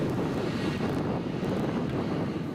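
Strong wind roars over the microphone at a construction site on a cold day, a steady loud low rumble with no breaks or voices.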